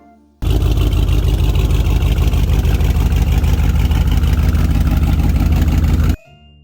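A car engine runs steadily and loud for about six seconds, a dense low rumble with a fast even pulse, starting abruptly and cutting off just as sharply, with no voices over it.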